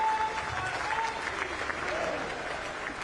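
A large crowd at the Vibrant Gujarat Global Summit celebration applauds Prime Minister Narendra Modi as he is welcomed on stage, dense sustained clapping that fills the hall, with a voice speaking over it.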